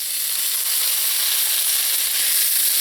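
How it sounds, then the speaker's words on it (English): Chopped tomato hits a pan of browning onion and garlic, giving a loud, continuous close-up sizzle and hiss that holds steady for a few seconds without talk. "So now that the onion and garlic have started to brown, I'm going to go in with some chopped tomato."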